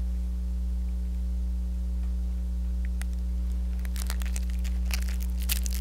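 Plastic barrier film crinkles and rustles in short, sharp bursts as it is wrapped around a Réjuvapen microneedling pen, heard over a constant low electrical hum that runs through the whole sound.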